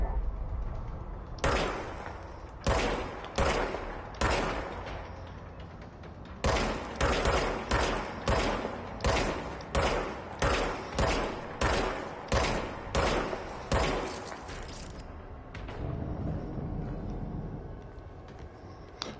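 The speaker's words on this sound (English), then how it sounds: "So it's a recharge gun." A recharge gun fires in a video game as a series of sharp, loud shots in irregular bursts, some spaced and some rapid, each with a short decaying tail, against low background noise.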